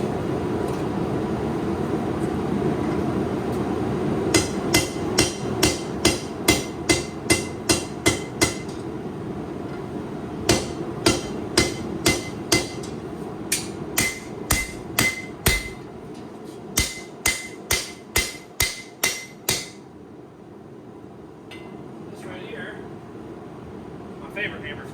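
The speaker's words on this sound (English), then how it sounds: "It's my first custom hammer." A blacksmith forges steel with a custom hammer, sharp ringing strikes falling in quick rhythmic bursts of about five to eight blows, separated by short pauses over a low, steady background hum.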